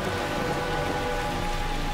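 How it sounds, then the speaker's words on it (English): Steady, dense rain falls over the high Andes mountains, a continuous broadband hiss with no pauses and no voices. "As the clouds rise, they cool, releasing their water as rain and as snow."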